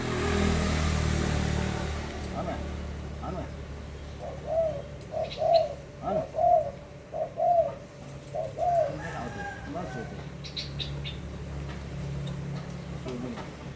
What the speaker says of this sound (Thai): อันนี้นกเลี้ยงนะครับเนี่ย ปล่อยได้ตามธรรมชาติ